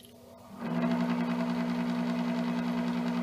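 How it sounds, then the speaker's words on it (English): A small, weak electric blower on a wood gasifier switches on about half a second in, then holds a steady, close, buzzing hum with no voices. "even though this blower is not that strong"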